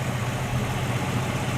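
A 1967 Ford Mustang engine idles steadily after being revived following 22 years unused, a close, even low rumble with no voices over it.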